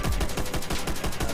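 Gunfire in the World at War campaign: a rapid automatic burst of repeated shots rattles steadily for a moment, dense and moderately loud, with no talk.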